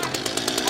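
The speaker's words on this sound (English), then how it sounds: "we just had to get the chainsaw in as quickly as possible and start cutting him out of it" A chainsaw cuts a wire snare off a black rhino bull during a helicopter-supported rescue in the field, giving a steady, loud rasping buzz with pulsing strokes that runs through the whole moment, with voices faintly mixed in.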